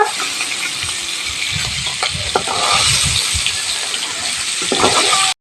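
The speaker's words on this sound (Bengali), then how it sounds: "কাঁকড়া মাছটা আমি ভালো করে ভেজে নিয়েছি, এবারে তুলে নেব।" Crab pieces frying in hot mustard oil give off a loud, steady, close sizzle, with occasional clatter from stirring breaking through the continuous hiss.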